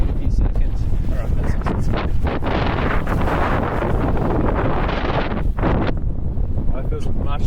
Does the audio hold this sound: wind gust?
yes